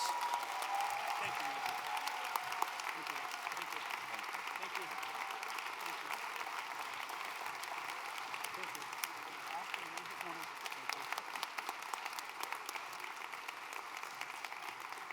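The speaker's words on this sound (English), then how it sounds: "So can we please give them one more round of applause?" At a swearing-in ceremony and reception, a crowd gives a long, steady round of applause, a dense patter of many hands heard from a distance that continues evenly for about fifteen seconds.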